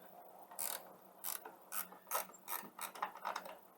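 A wrench ratcheting on the battery hold-down nuts of a Mazda CX-9, close, quiet bursts of rapid clicking repeated about eight times in an uneven rhythm, with no talk.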